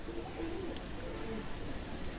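A Black Horse teddy pigeon coos softly in a loft, low throaty warbling calls repeated over a faint background hum, no speech.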